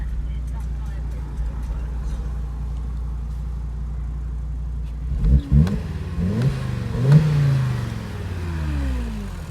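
A high-mileage Audi TT RS 8J with a six-speed manual idles with its exhaust open, then revs sharply several times in quick blips that rise and fall, loud and close.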